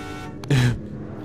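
A car horn in the video game Final Fantasy XV gives a quick blip and then one longer, fairly loud honk, with quiet game ambience before and after.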